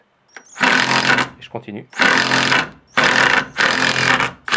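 A power driver sinks a Spax double-thread screw into a deck board, sounding as three or four loud whirring bursts separated by short pauses, with a brief spoken remark between them.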